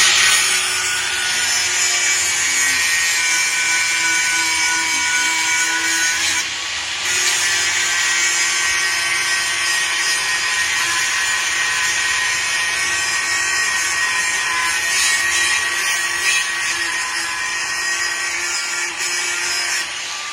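An angle grinder cleans jammed, rusted pliers, a loud, continuous high-pitched whine with abrasive grinding that dips briefly and then carries on steadily, with no voices.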